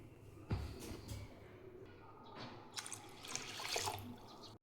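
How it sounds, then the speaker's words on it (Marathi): Water splashes and trickles as rice is rinsed for soaking in a kitchen, a soft, close, irregular sloshing with a few brighter splashes, fairly quiet overall. "तांदूळ 3 पाण्याने धुवून घेतले."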